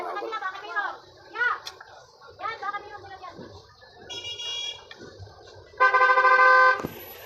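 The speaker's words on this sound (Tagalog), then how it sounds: "Daming busina sa tabi tayo ng karsada kasi mga idol." Car horns honk beside a busy, traffic-jammed roadside, with short toots and then a long loud blare near the end, mixed with children's voices and street chatter.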